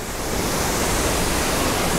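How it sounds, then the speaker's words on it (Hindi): Water rushes beneath a bamboo bridge beside Kanchenjunga Waterfalls in West Sikkim, a steady, loud, broadband roar of flowing water that continues unbroken throughout. "बांस से बना हुआ पुल, और इसके नीचे से बहता हुआ पानी बहुत ही प्यारा लग रहा है।"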